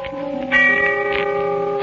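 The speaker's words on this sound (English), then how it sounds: "the sound of a distant bell faded out as I thought" A church bell rings in the distance, its sustained, overlapping tones swelling partway through and lingering with a rich, humming resonance.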